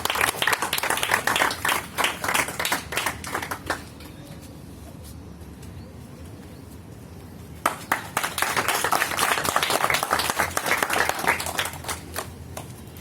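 A crowd at an Independence Day celebration claps loudly and steadily, fades to near quiet for a few seconds, then bursts into sustained applause again.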